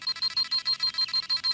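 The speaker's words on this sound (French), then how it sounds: "Le signal d'alarme? Mais qu'est-ce que ça veut dire?" A cartoon alarm signal from Raditz's scouter beeps in a rapid, evenly spaced electronic pattern, about ten high-pitched pulses in a row, moderately quiet and alone.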